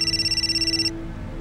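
A telephone bell rings in a steady rapid trill for just under a second, then cuts off, leaving a low background hum.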